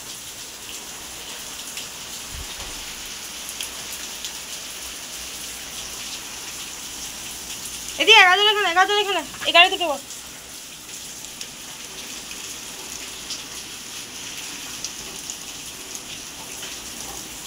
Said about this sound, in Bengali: বৃষ্টি আরম্ভ হয়ে গেল।